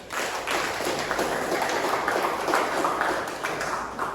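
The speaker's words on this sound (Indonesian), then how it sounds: "Oke, tepuk tangan." Classroom applause from a group of students: continuous, fairly faint clapping at a steady level across the whole span.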